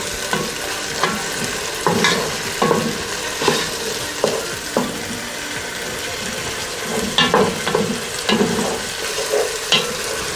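Onions frying in a pot as the base of a chicken pilau, a steady close sizzle broken by repeated clanking stirs of a utensil against the pot, with no talk.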